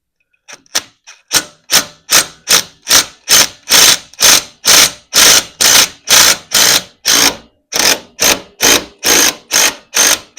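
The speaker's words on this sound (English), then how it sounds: "pop it off with my impact" A pneumatic-style impact wrench hammers a bolt loose on a BMW R1200GSA crash bar, a run of about twenty loud, evenly spaced rattling bursts close up with no talk.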